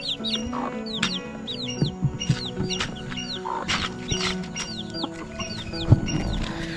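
Several chickens cluck and chirp continuously nearby, with quick overlapping calls and small chicks peeping throughout.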